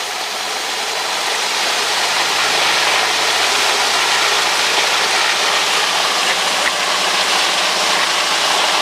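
A light aircraft's piston engine roars steadily and loudly close by as the throttle is brought up for a run-up, a constant dense drone with no breaks.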